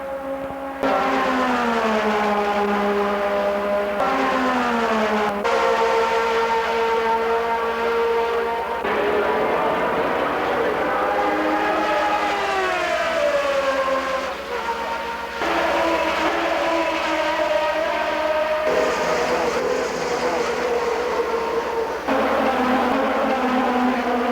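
Race cars at the 1981 Long Beach Grand Prix street circuit, engines screaming loud and near as they rise and fall through gear changes, one car after another passing without a break.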